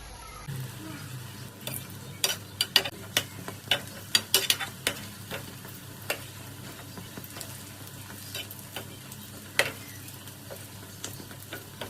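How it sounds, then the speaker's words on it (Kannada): Goli baje batter frying in hot oil, a steady sizzle with scattered sharp crackles and pops throughout, close and alone. "ಇವಾಗ ನೋಡಿ, ಎಣ್ಣೆ ಬಿಸಿ ಆಗಿದೆ. ಇವಾಗ ಇದಕ್ಕೆ ನಾವು ಹಿಟ್ಟನ್ನು ಸ್ವಲ್ಪನೇ ಹಾಕೋಬೇಕು. ಹಾಕೊಂಡು ಫ್ರೈ ಮಾಡಿದ್ರೆ ಗೋಳಿ ಬಜೆ ರೆಡಿ ಆಗುತ್ತೆ."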